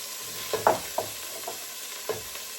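Venison pieces browning in a pan for a casserole, with a faint steady sizzle broken by a few soft clinks and stirring scrapes, close and quiet with no talking.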